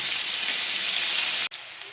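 Onion paste sizzles in hot oil with whole spices, a loud, continuous hissing spray that drops sharply for an instant before carrying on slightly quieter.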